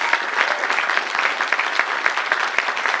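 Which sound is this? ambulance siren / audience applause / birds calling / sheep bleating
audience applause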